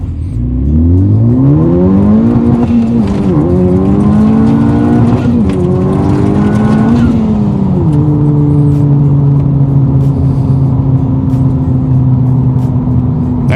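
Honda Civic Type R tuned past 415 wheel horsepower accelerating hard in a 0 to 60 run, a loud close engine climbing in pitch through gear shifts, then holding a steady high drone, with no talk.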